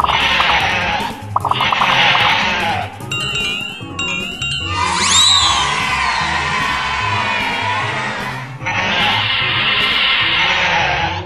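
Sheep in a children's flashcard game bleat in several loud, close bursts, separated by bright chiming sound effects and a rising whistle-like cue.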